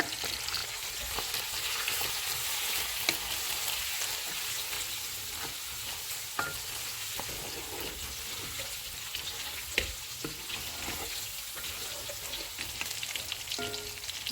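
Chicken and ginger-garlic paste sizzle steadily in a pan over full heat while a spoon stirs and scrapes now and then, with sharp clinks over the continuous frying hiss.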